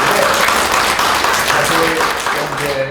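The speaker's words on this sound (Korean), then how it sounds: "정말 박수 쳐주세요" Steady, full audience applause fills a party members' meeting hall in Pohang, a loud continuous wash of clapping with voices faintly underneath throughout.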